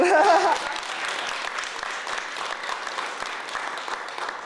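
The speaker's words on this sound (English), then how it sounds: "Yeah, we can clap for that." An audience at an equity awards ceremony claps, with a loud opening burst that settles into steady, sustained applause.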